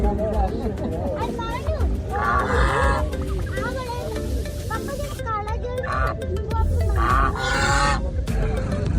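Roosters crowing and other poultry honking from several birds ring out repeatedly over a busy crowd hum and nearby chatter at the Muktsar Maghi horse fair, an outdoor fair.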